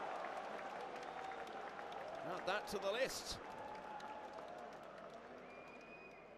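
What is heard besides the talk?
crowd applauding at pool match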